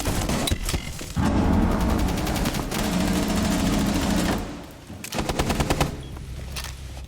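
Rapid automatic gunfire in a video game rattles out in long, dense bursts, loud and close. A short lull comes partway through, then more quick shots follow.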